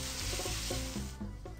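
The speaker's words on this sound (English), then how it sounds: "I need to flip those crispy burgers" Burgers sizzling on a grill in the cooking game Papa's Burgeria, a steady close frying hiss with soft clinking layered over a light musical backing, heard alone with no talk.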